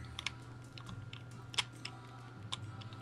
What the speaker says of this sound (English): I'm moving my screen with the arrow keys